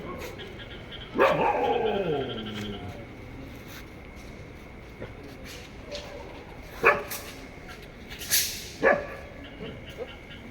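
Dogs near a shop give a few short, sharp barks and yips spaced over several seconds, fairly close by, with people talking around them.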